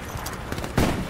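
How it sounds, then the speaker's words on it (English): Sniper gunfire in a shooter video game: a short burst of crackling shots with one heavier report near the end, close and fairly loud, with no talking. "that's a sniper literally shooting at me"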